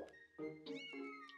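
A cat in the video game The Legend of Zelda: Skyward Sword gives a short series of clear, tonal meows, quiet and close, with no talking.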